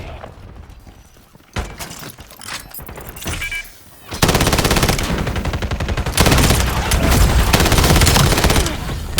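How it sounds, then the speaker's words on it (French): A war machine grenade launcher fires in a Call of Duty zombies game. Loud, dense bursts of rapid gunfire and blasts come after a quieter stretch with scattered shots, then run nearly continuously. "Machine de guerre prête à cracher les grenades."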